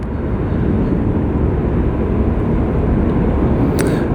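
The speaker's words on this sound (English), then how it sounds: "As all of these offending aircraft cross runway 6 right simultaneously." At LAX, a steady, loud jet engine roar fills the air as aircraft cross the runway, with a constant rumble and no talking.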